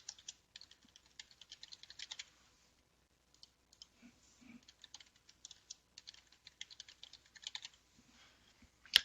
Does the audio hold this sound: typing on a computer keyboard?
yes